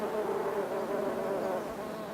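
A colony of bees buzzes steadily and loudly close by, a dense continuous drone with a wavering hum and no voices.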